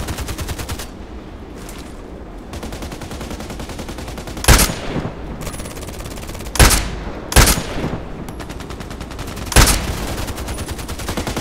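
Sharp, loud sniper rifle shots ring out in the online shooter Contract Wars, four separate cracks spaced a second or two apart over steady background game noise.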